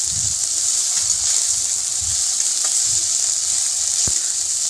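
Chuna fish frying in hot oil, a steady, fairly loud hissing sizzle held close, with a few soft low thumps and one sharp tap near the end, no voices.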